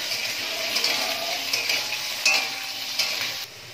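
Potato pieces fry in oil, a steady moderate sizzle with a few spatula scrapes and knocks against the pan, no talking over it.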